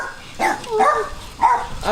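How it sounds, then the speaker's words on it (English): A small Jack Russell terrier gives a few yips and barks close by, in short bursts with brief gaps between them. "You little Jack Russell."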